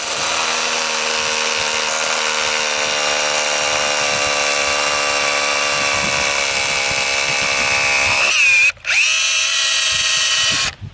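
A Makita 10.8V CXT SDS drill with a 6mm bit whines steadily at high speed, grinding into a solid, dense concrete block for several seconds, then cuts out briefly and restarts before stopping.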